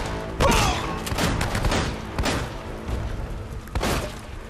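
Shotgun gunfire in the video game Uncharted: Drake's Fortune, several loud booming blasts with chaotic combat noise between them, heavy and close.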